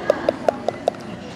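A person vocally imitates pouring water, producing five short, evenly spaced liquid clicking pops, close and fairly loud, with nothing else around them.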